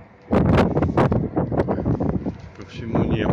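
Cold December wind gusts roar across the microphone outdoors at dawn above a city, loud and buffeting throughout with uneven surges.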